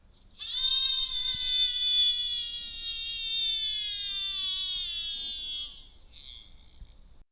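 Recorded human screaming played back through a small speaker on a balloon-borne microphone rig, heard as one long, thin, steady high-pitched tone lasting several seconds, fading briefly near the end.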